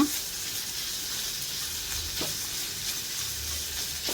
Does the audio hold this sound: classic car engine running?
no